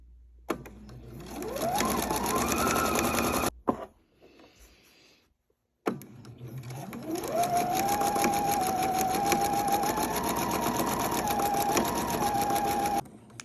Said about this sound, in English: it is to hold a camera and sew at the same time